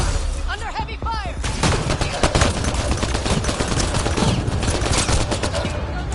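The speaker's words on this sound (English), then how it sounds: "Under heavy fire!" Heavy sustained gunfire in a shooter video game, dense rapid bursts of shots continuing loud and close throughout, with game voices calling out over the shooting.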